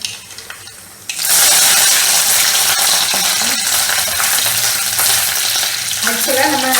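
Mustard seeds splutter in hot oil as a tempering for Tirunelveli-style bitter gourd theeyal. After about a second of quieter pan noise, a loud, dense, continuous crackle and popping bursts in close up and holds steady without voices.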